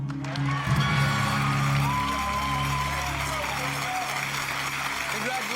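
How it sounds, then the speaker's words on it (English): Applause from a game show studio audience, a broad steady wash of clapping and faint cheers that swells early and then holds, with a voice talking over it. "they're applauding her for stealing from her workplace"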